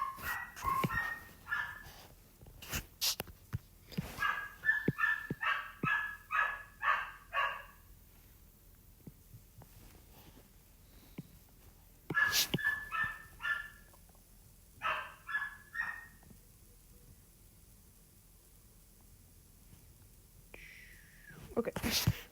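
Several dogs bark in bursts, some sharp and high, with quiet gaps and a soft voice or whisper between, fairly close.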